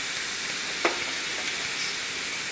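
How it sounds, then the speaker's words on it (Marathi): Large-cut onions and tomatoes roast on a hot tava griddle over medium gas, giving a steady, close sizzle and hiss throughout, with one short scrape or clink near the start and no talking. "या तव्यात आपण जे दोन कांदे आपण घेतलेले आहेत ते मोठे मोठे असे कट करून घेतलेले आहेत ते भाजून घेऊया"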